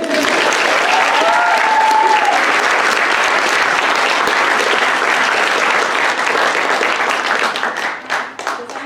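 Sustained audience applause fills a graduation presentation hall, dense and loud from start to finish, with a brief voice rising early on and the clapping thinning slightly toward the end.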